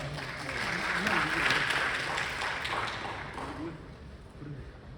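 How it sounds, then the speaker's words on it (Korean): Teachers in a training-session audience applaud as a presenter is introduced, a broad, steady patter of clapping that swells early and gradually thins, with a voice speaking over it. "박수로 부탁드리겠습니다."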